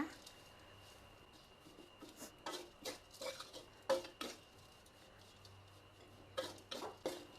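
Crispy fluffy fried catfish tossed with chili-ginger curry paste and kaffir lime leaves in a pan, heard as quiet, intermittent scraping and clattering strokes of a utensil against the pan, in irregular clusters.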